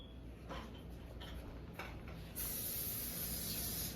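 Cooking spray hisses into a pancake pan in a short burst that starts partway through and continues steadily, preceded by faint clicks and taps of handling the can.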